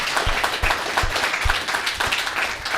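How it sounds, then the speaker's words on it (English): Light applause from a small audience at a baseball coaches' show, a handful of claps in an uneven rhythm over a background of low murmuring. "A little round of applause for that."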